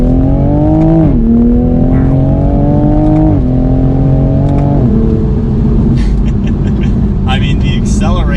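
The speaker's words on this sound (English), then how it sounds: "if we go ahead and put it into sport mode, the acceleration bone stock is impressive" Bone-stock Toyota Supra A90 accelerating hard in sport mode, the engine and exhaust note climbing steadily in pitch through a few quick gear changes before settling into a lower, rougher rumble near the end.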